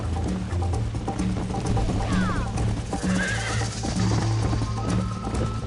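Horses in the Red Dead Redemption video game whinny and neigh with rising, wavering calls over steady hoof clip-clop and mechanical gear rattle, the sounds dense and close.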